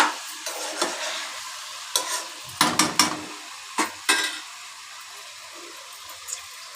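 Chicken frying in oil with a lid on the pan, a steady soft sizzle broken by several sharp clinks and stirring knocks of a spoon against the pan, close by, no voices.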